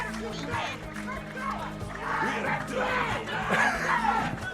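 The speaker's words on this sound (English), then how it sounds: "The crowd is going insane right now." A crowd at a Skullgirls fighting game tournament, Combo Breaker 2015, cheers and yells wildly in rising waves, loud and close, with a commentator talking over the uproar.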